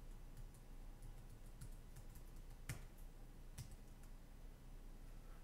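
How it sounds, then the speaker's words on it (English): A computer keyboard clicks faintly and unevenly at close range, with a few sharper keystrokes standing out over a quiet background hiss. "Let's see if I can type this in again."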